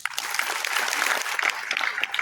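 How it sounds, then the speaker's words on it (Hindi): Audience applause in a hall at a spiritual gathering, a steady, dense wash of clapping that holds at an even level throughout with no pauses or voices. "एक बार तो सबके लिए ताली बजा दें।"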